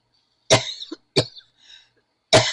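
Three sharp, close coughs separated by short pauses, with a faint throat sound between them, in an otherwise quiet room.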